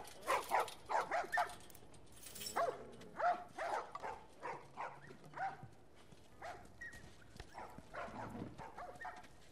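Dogs bark repeatedly in The Last of Us video game, a series of short, fairly close yaps and woofs in an irregular rhythm with brief pauses between bursts.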